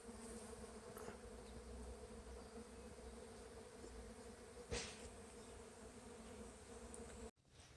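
Bees buzzing steadily around a flowering plum thicket on a mild March day, a continuous close insect hum with a few louder passes and no talk.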